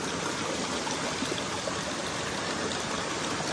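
A shallow mountain stream on Mount Mitou in Okutama rushes and splashes steadily and close while someone rinses the soles of their feet in it, a continuous bright babble without pause.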